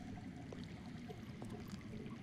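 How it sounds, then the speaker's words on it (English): Steady low rumble of underground running water with faint trickling, continuous and moderately distant, in a Game of Thrones video game; no talk. "That's water. I hear water. From underground."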